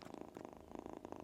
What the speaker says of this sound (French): Elle ronronne, je sais pas si vous l'entendez.